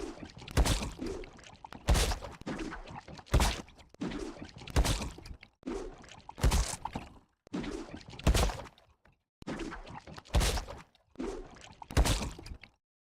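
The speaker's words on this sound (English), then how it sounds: "So there's this little water sound effect in the background" Chomp Jr. pickaxe effect from Fortnite, a series of regular thunking strikes with a faint watery splash element, about five evenly spaced hits, moderately quiet with silence between.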